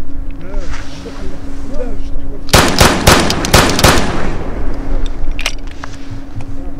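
A rapid burst of several sharp gunshots cracks loudly over a droning engine hum, followed by a couple of scattered shots.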